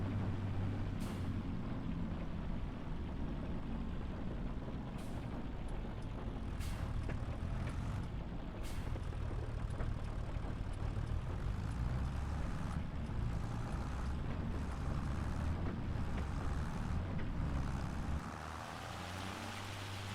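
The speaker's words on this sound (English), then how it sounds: "I definitely like the sound of the rain." Steady, dense rain patter in the video game Farming Simulator 25 hisses continuously under a low tractor engine rumble, with a few sharp clicks, and the noise drops slightly near the end.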